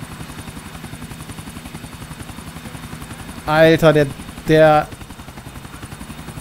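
A helicopter in the video game GTA IV drones with a steady rapid rotor chop throughout, while someone speaks briefly over it in two short bursts.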